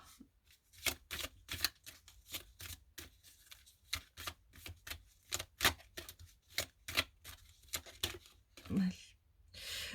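Tarot cards being shuffled and laid out by hand, a rapid series of crisp riffling snaps and slaps in uneven bursts, close and fairly quiet.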